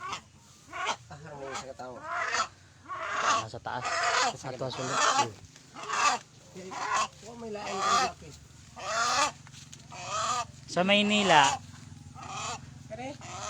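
Native chickens squawk in short, loud bursts close by, mixed in with steady Tagalog-speaking voices throughout.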